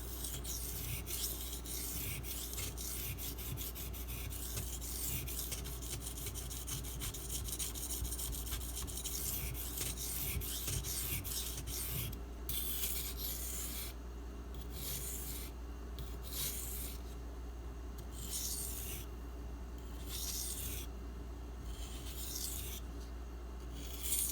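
Steady scraping strokes of a Spyderco Delica SG2 steel blade ground on a King Deluxe 1200 grit whetstone, a continuous close rasp that later turns into a regular back-and-forth rhythm of separate passes.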